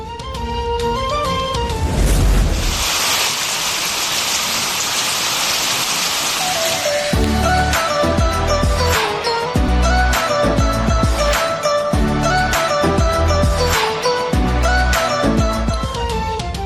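Heavy monsoon downpour over a city, a dense steady roar of rain and spattering drops that stays loud and continuous throughout, with no voices.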